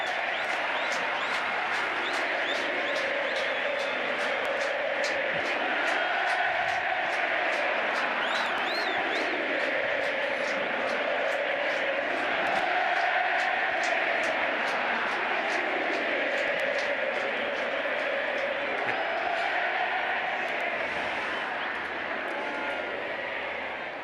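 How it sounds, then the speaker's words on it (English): Rugby stadium crowd at Argentina v England, a dense sustained roar of many voices singing and cheering that swells and sways steadily, loud and continuous throughout. "I swear there is no crowd like it."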